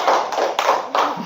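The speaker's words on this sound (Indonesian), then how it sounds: "beri dulu tepuk tangan untuk kelompok 3" A small classroom group at an elementary school claps for group 3, a short burst of a few hand claps with brief rhythmic pauses, close and fairly loud.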